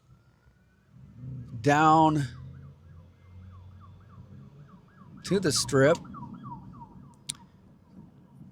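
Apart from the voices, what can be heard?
police car sirens in Las Vegas street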